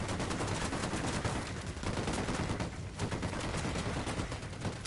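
Sustained automatic gunfire and bursts of rifle shots in the video game Ghost Recon Wildlands, loud and dense, with overlapping volleys forming a continuous fusillade across the whole stretch.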